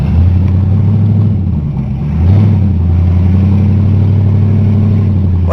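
A 1992 Ford Granada engine runs loud and close, its hum dipping and stumbling as the gas is pressed, then recovering into a steady, slightly surging rev with no talk.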